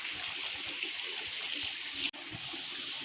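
Water runs steadily out of a pipe and straight down into a village well in rocky Konkan countryside, a continuous close rushing gush with a brief break partway through, no voices over it.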